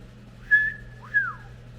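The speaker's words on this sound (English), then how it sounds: "I can't whistle very good." Two short rising-and-falling whistled notes from a person, fairly clear and alone over a low steady hum.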